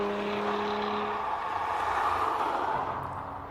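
A race car at the Simola Hillclimb runs at a steady engine roar, heard from a distance and not at full throttle, and the sound swells slightly as it passes.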